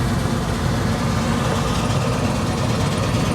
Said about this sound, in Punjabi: ਅੱਜ ਕਾਫੀ ਕੰਪਾਈਨਾਂ ਚੱਲ ਪਈਆਂ ਜਿਹੜੀਆਂ ਕਣਕ ਦੀ ਵਢਾਈ ਕਰ ਰਹੀਆਂ ਨੇ